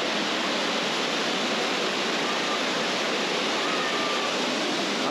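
Hogenakkal waterfall pours in a dense, steady roar of rushing water, loud and unbroken throughout with no voices.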